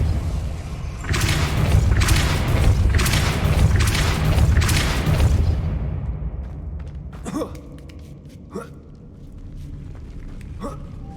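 Casting the Depulso spell in Hogwarts Legacy sets off a run of deep, rhythmic whooshing booms, followed by quieter scattered clicks and knocks as the effect fades.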